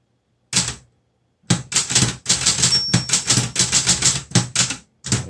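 Crisp, rapid mechanical keystrokes from a Clova Top Star 10S Hangul typewriter, struck firmly and separately in a steady burst, close and loud with brief pauses between runs.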